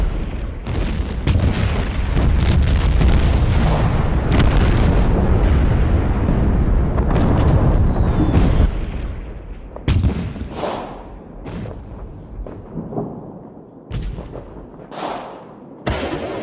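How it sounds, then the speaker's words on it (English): Artillery shells explode near Turkish observation posts in wartime. A dense, sustained rumble of blasts gives way to separate heavy booms spaced a second or two apart, each with a rolling decay. "And then we get shelled again."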